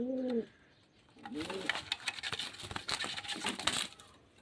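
Pigeons coo nearby in two low, rolling calls, followed by a stretch of clattering, scratching and wing movement around the birds.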